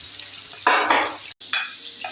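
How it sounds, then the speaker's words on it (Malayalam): Chicken frying in masala gives off sharp bursts of sizzling as it is stirred in the pan, with loud spits broken by a brief gap. "ചിക്കൻ്റെ ഞാൻ പൊരിക്കാൻ വെക്കുന്ന കേട്ടോ."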